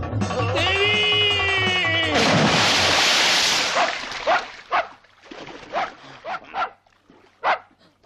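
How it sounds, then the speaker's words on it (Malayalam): A dog barks in a series of sharp, loud yelps, scattered irregularly after a burst of noise, with other voices and sounds heard earlier. "പട്ടിയായിരുന്നു"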